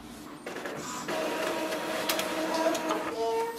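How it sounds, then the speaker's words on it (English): An Epson ET-2803 inkjet printer runs its print head cleaning cycle, whirring and clicking mechanically with shifting motor tones and brief clatters, close and moderately loud, with no voice over it. "click on the start button to start the print head cleaning"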